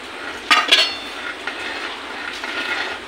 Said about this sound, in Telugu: గరిట పెట్టి ఇలా తిప్పుతూ ఇలా వేయాలి కొంచెం కొంచెం